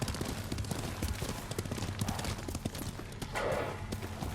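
Horse hooves gallop in the samurai video game Ghost of Tsushima, a fast, steady clip-clop rhythm up close that carries on throughout with a faint rushing wind behind it.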